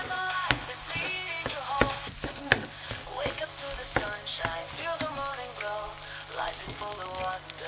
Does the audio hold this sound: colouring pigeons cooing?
no